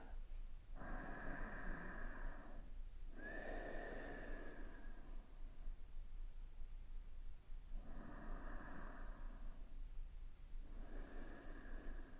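Slow, deep breaths drawn in and let out during a seated relaxation session, each long breath swelling and fading in an even rhythm over a steady background hiss, with no talking.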